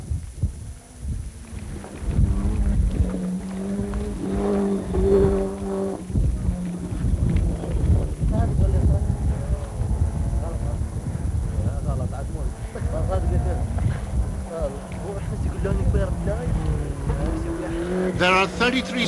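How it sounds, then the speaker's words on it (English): Ford Sierra Cosworth rally car at speed on smooth sections of a desert stage, engine droning and throbbing in the background beneath continuous commentary. "Mamdouh Kayat and David Nicholson in the David Sutton prepared Ford Sierra Cosworth show what speeds can be achieved on the smooth sections of the desert stage"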